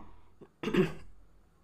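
A woman gives one short, fairly close cough after a faint earlier throat sound, then quiet, indoors at home.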